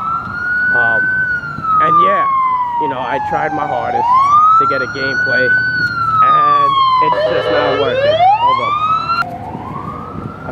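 A wailing emergency siren rises and falls loudly and continuously in a Bronx street, with someone talking over it and traffic rumbling beneath.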